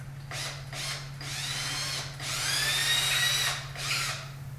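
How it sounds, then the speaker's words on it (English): A power drill with a 1/4 inch bit whines in several bursts, spinning up and boring through half-inch drywall, with short pauses between runs and a steady low hum beneath. "I used a 1/4 inch drill bit, and it went pretty quick since the drywall is only a ½ inch thick"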